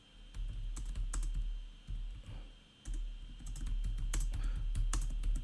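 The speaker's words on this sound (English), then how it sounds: "One second, I'm typing to him." Fingers tap on a computer keyboard in quick, uneven bursts of clicks, close and fairly quiet, with a short pause near the middle and no talking.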